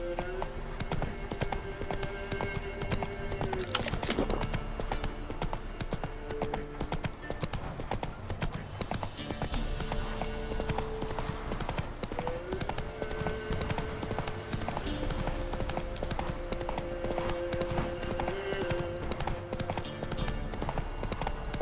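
Roach the horse from The Witcher video game trots with a steady, close clip-clop of hooves, mixed with game music tones and a brief snort, and a faint voice now and then.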